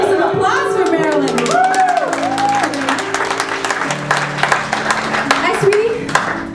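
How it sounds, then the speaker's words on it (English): An audience claps and cheers steadily while a voice talks over the applause. "Let's hear some applause for Marilyn"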